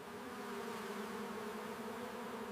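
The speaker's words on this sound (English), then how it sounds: "Bees can sting you if they are angry." Bees give a steady, continuous buzzing drone that is moderately close and holds at an even level throughout, with no voices.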